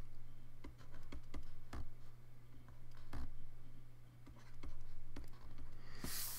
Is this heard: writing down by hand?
yes